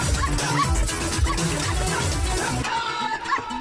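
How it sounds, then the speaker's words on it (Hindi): A dog yaps and yips in quick, close bursts, with a whimpering edge, over a busy, noisy background. "अरे कोई बचाओ भैया, इस कुत्ते से बचाओ।"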